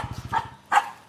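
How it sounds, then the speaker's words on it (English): A dog gives two short barks, moderately close, with a brief rhythmic rumble before them in a quiet setting. "See, Parker's still barking until now"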